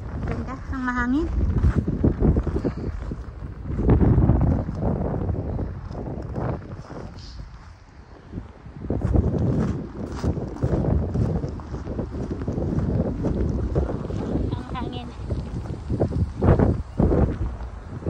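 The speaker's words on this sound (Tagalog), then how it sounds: "Ang mahangin." Strong wind buffets the microphone in loud, gusting rumbles for the whole stretch, during a snowy walk at -19°C, with a few brief voices and faint background activity.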